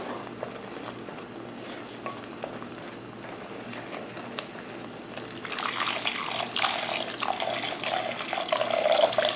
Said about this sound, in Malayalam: ഇനി ആവശ്യത്തിനുള്ള വെള്ളം ഒഴിക്കാം